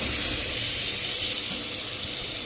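Potatoes fry in hot oil for a desi chicken and egg curry, producing a steady, bright hiss that stays loud and even throughout with no other sounds.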